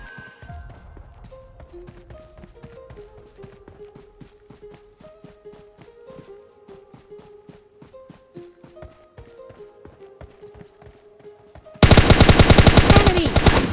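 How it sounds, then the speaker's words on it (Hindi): Gunfire in the mobile battle game PUBG Mobile Lite, a solo-versus-squad rush: rapid automatic bursts of shots over a steady rhythmic pattern, then a sudden much louder, dense burst of fire near the end. "लेकिन फिर भी मैं बाद में फायर करके लोकेशन बता ही देता हूँ"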